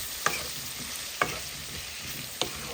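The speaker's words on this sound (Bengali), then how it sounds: "এখন নেড়ে চেড়ে" Eggplant and potato curry seasoned with turmeric and salt being stirred in a pan, three distinct spoon scrapes over a faint steady sizzle, no talking.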